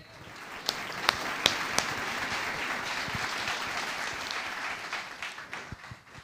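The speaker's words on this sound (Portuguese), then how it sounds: "Palmas a ele." A church congregation breaks into sustained applause, a steady wash of many hands clapping at moderate distance with a few sharper claps early on, fading slightly at the end.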